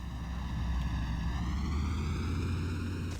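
A bomber's aircraft engine in the flight-sim game IL-2 1946 drones on steadily with a constant loud hum and harmonic whine throughout, no talk over it.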